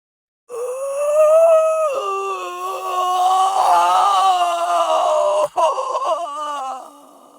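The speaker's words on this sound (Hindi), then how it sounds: "अचानक रस्सियां टूट गईं और सविता की आत्मा चीखते हुए गायब हो गई।" A ghostly scream for a horror tale, the spirit shrieking as it vanishes: a long, loud, wavering wail that swells, dips, then cuts off sharply before a fading tail.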